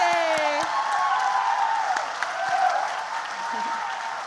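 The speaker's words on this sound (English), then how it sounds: "and we'll clap for you." Audience applause at a healthcare awards ceremony for award winners, steady dense clapping throughout with a brief whoop, a tonal sweep at the start and voices mixed in.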